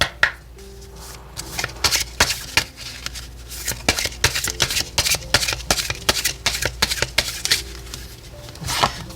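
Oracle cards shuffled during a tarot reading, a quick run of crisp papery riffles and taps repeating irregularly, close and fairly loud, with no talking.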